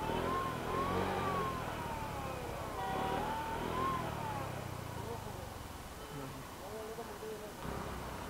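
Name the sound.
scooter engine revving to keep it from stalling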